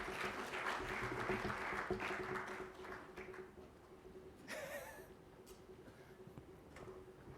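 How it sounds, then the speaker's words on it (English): Conference audience applauding two presenters at a cybersecurity event in Melbourne, a moderate round of clapping that fades out, then a brief swell and scattered taps in a quiet hall. "Can we just give a warm round of applause for Colby and Lord Sasenka?"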